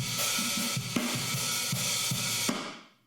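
Full drum kit crushed through a Distressor on its extreme nuke setting, a flat wall of sound with pumping snare hits in a steady beat, ending on a final crash that rings out and fades.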